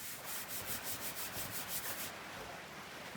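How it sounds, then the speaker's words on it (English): A squeegee rubs back and forth over sign vinyl, pressing it flat onto a backing, giving a steady scraping swish in regular strokes that thin out toward the end; quiet, close and with no talking. "Now use your squeegee, go all over it."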